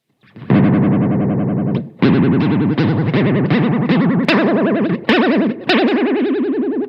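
Electric guitar played through a KOKKO vibrato pedal set to its maximum rate, a loud fast warbling wobble on sustained chords with sharp pick attacks, heard alone.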